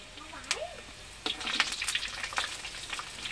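Crispy noodles frying in hot oil, a crackling sizzle with sharp pops and splutters that jumps louder partway through, while a person's voice is heard faintly at the start.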